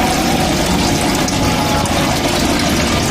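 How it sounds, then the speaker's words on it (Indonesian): Water rushes steadily through the pipes of a tank system once valve F25 is opened, a loud, constant pumping flow with no pauses. "Seperti yang dilihat, aliran air mulai berjalan setelah membuka keran F25."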